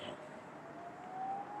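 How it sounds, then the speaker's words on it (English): Faint, distant emergency sirens wail steadily in the background of an outdoor night scene, a thin rising tone over a low hiss of ambient noise, with no voices. "we got weird sirens kicking off in the background."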